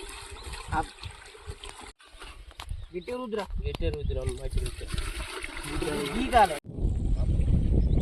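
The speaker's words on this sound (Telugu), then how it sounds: "ఇప్పుడు బియ్యం అయితే కడుగుతాను ఫ్రెండ్స్ ఇది బోర్ నీళ్ళు అనమాట" Rice being washed with borewell water outdoors: a splashing trickle under a person's talking, ending in a steady rush of running water once the talking stops.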